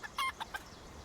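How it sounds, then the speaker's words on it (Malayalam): Chicken-like creature in the Palworld video game giving a few short clucking calls, three quick bursts within about half a second, fairly faint and alone with no talking. "കോഴിയാ?"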